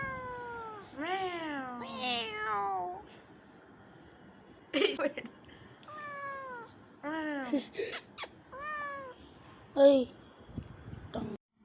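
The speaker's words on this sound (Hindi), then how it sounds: "आप भी सुनो बिल्ली का म्याऊ." A kitten meows repeatedly, high and plaintive, in a string of separate cries with short pauses, close and clear against a quiet background.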